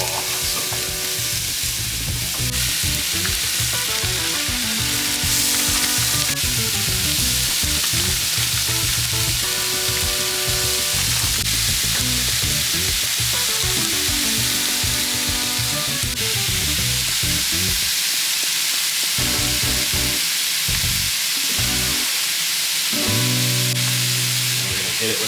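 Onions and garlic caramelize in a pan for taco hotdish, a loud continuous sizzle with stirring scrapes that briefly drops out near the end, with faint voices mixed in.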